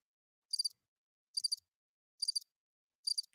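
A cricket sound effect gives four evenly spaced, high, shrill chirping bursts, each a quick trill, isolated against total silence.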